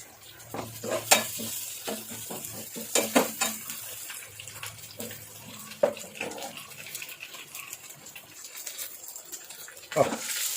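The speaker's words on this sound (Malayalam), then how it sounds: "നമുക്കൊന്ന് ചുറ്റിച്ച് കൊടുക്കാം കറിയൊന്ന് തവി ഇട്ട്" A ladle scrapes and clinks around a pot of simmering sardine and drumstick curry, with soft sizzling and bubbling between the irregular stirring knocks.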